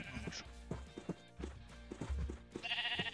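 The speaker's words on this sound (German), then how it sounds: "Noch mehr Schafe." Sheep bleating in the Minecraft video game, several short nasal bleats spread through the clip at moderate loudness, mixed with other soft game sounds and no talk.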